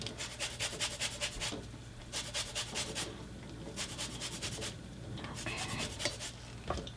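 A lemon is zested over a bowl for potato salad with tarragon, making rhythmic, close rasping strokes in quick bursts separated by short pauses, fairly quiet and with no talk.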